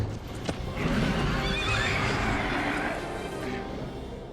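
A horse whinnies loudly and close for several seconds, with a hoof clop near the start and a steady background rumble underneath.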